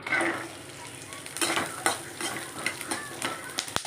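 Onion, tamarind and garlic frying in a pan make a faint sizzle punctuated by irregular stirring scrapes and utensil clinks, close up and fairly quiet.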